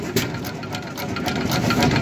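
An old stationary engine at the Coolsprings engine show runs close by with a rapid, steady mechanical chatter and loud rhythmic knocking throughout.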